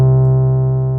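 A deep, sustained 808 bass note from the Apeshit 808 plugin holds steady for about a second, with a thick low-end hum and rich harmonics and no decay.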